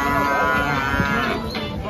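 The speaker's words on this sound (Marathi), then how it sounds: "एकच नंबर क्वालिटीच्या म्हशी आलेल्या आहे मित्रांनो आजच्या बाजारामध्ये" A water buffalo at a Tuesday buffalo market near Parola in Dhule gives a loud, drawn-out low moo close by, over a busy background of market noise.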